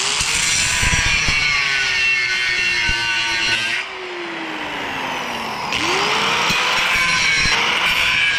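A metal part for a waste oil burner build is cut with a power tool, giving a loud, sustained grinding whine that pitches down under load, pauses briefly and then resumes, close to the listener.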